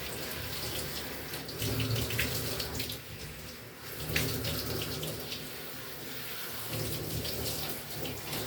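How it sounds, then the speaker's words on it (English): Running water rinses soap out of a bathtub, a steady splashing gush close by that dips briefly and then resumes. "Just rinsing out the tub of all the soap"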